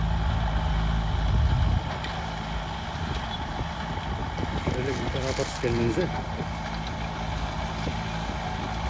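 A John Deere 5095M tractor pulls a 2.65 m hoe through dry soil. Its engine drones steadily and loudly throughout while someone speaks over it.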